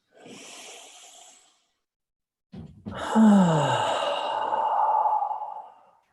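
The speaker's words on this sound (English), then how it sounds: "Just taking 3 deep breaths." Slow, deep breathing up close: a soft exhale, a pause, then a long, strong inhale flowing into an audible sighing release, with no talk.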